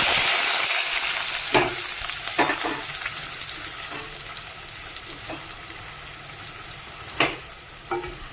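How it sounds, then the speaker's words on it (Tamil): Onion and curry leaves sizzle steadily in hot oil in a pan, a continuous close frying hiss with a few sharper pops and stirring clatters scattered throughout. "தேவையான அளவு ஆயில் சூடானோன்னா வெங்காயம் கருவேப்பிலையும் போட்டுக்கலாம்."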